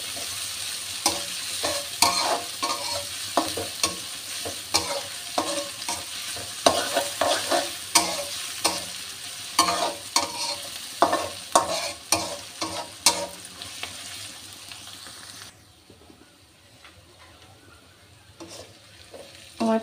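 Sliced onions fry in a pan until golden and crisp for a beef curry. A busy sizzle runs under repeated scraping stirs, then drops away near the end, leaving a quiet hiss.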